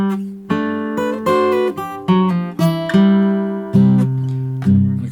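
Acoustic guitar playing the closing two bars of a country blues, a handful of plucked bass and treble notes and chord strums, each ringing out and decaying, played close and clear with no talk.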